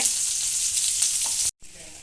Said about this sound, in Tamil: எல்லாத்தையும் சேர்த்து இந்த அளவுக்கு நல்லா வதக்கிக்கோங்க.